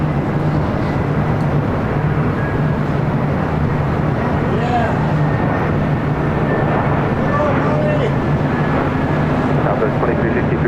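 An American Airlines Airbus A321neo arriving from Phoenix on the north side at LAX, a loud continuous jet roar with a steady low rumble and faint tonal whine throughout, close by, with no one talking.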